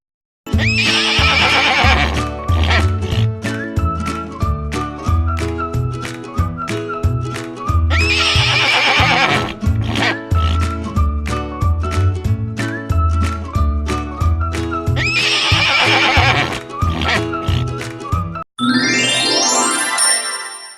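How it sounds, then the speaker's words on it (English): Horse neighing in three loud, repeated whinnies spaced several seconds apart over a rhythmic musical backing, ending with a bright chime flourish. "Horse neighs."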